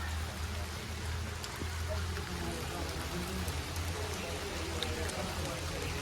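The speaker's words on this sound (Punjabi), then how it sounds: "ਬਹੁਤ ਮੀਂਹ ਪੈਣ ਲੱਗ ਪਿਆ ਤੇ ਕੰਮ ਸਾਡਾ ਰੁਕਿਆ ਪਿਆ" Heavy rain falls steadily in a Punjabi village, a dense, unbroken hiss of drops on surfaces that stays loud and constant throughout.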